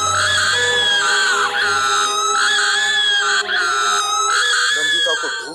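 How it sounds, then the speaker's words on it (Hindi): A woman screams in a horror story set in a cave, a loud, sustained high wail with repeated rising and falling pitch over about five seconds, backed by a low drone and eerie music. "नंदिता लगातार चीखती जा रही थी।"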